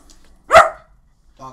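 A house dog lets out a single loud, close bark, followed by a brief voice starting just after.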